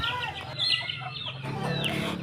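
Hens cluck and chatter in a steady jumble, close by, with a low rumbling background throughout.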